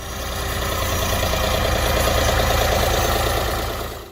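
A vintage Ford 2000 tractor engine runs close by on a Midwest farm, giving a steady low, knocking diesel-style idle with even rhythmic chugging throughout.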